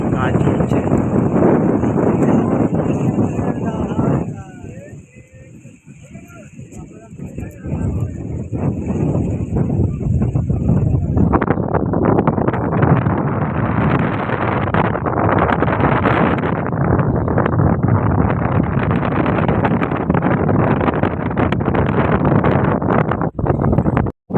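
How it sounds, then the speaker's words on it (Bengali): Strong storm wind over the Bay of Bengal near a river at Sitarampur roars loudly into the microphone, buffeting almost continuously with a brief lull, while someone talks under it. "মেঘের ভিতরে প্রচুর বাতাস হচ্ছে"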